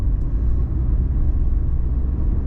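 Heavy road traffic in Kuwait in the early afternoon, a low continuous rumble of passing cars with a gently swelling and fading drone, heard from nearby without voices.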